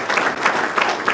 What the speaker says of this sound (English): Let's clap for Wells